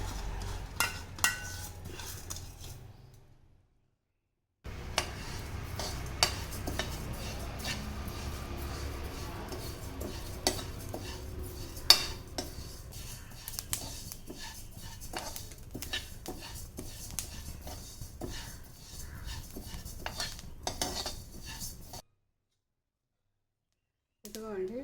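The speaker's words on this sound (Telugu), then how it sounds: "స్టవ్ వెలిగించి కళాయి పెట్టి అది వేడైన తర్వాత ఇదిగోండి అవిసె గింజలు వేసి" A spoon scrapes and clinks against a hot kadai as flax seeds are roasted and stirred, with steady faint sizzling and rattling broken by short silent gaps.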